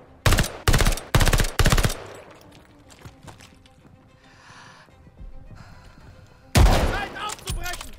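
Rifle fire in Call of Duty: Vanguard: four loud, sharp shots in quick succession, then a quieter stretch of distant battle ambience, then another burst of heavy rifle fire.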